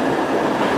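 A train at a railway station in Serbia gives a steady, close, loud rumbling roar with a broad rolling texture and no distinct clacks, heard briefly with no voices.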